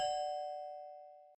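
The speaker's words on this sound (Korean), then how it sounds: "하지만 초인종을 눌러도 응답이 없었습니다." A single doorbell chime rings out clearly, one sustained bell tone that decays smoothly over about a second, alone with no voices.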